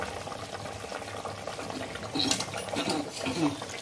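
Water poured into a simmering fish curry of boroli fish and elephant foot yam, a soft continuous watery pour and bubbling that swells briefly louder midway, close by in a kitchen.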